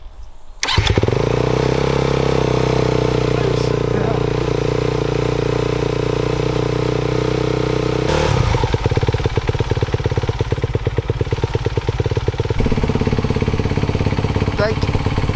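A newly bought motorcycle's engine starts and idles steadily, then from about eight seconds settles into a rougher, pulsing revving with a lower tone near the end; loud and close throughout.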